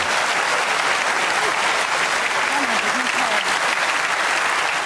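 Snooker crowd applauding loudly and continuously after a young Judd Trump's shot, dense clapping filling the hall throughout with a faint voice calling out partway through.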